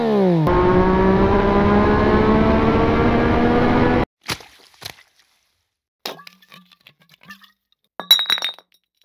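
A Yamaha XSR 900 motorcycle engine revs up and holds a loud, close roar for about four seconds, then cuts off, leaving scattered sharp clinks and clatters.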